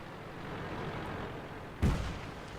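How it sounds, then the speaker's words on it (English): A tank gun fires a single blind shot in the World of Tanks video game, a sharp boom rising over a steady low engine rumble and fading quickly. "SU has just taken a blind shot."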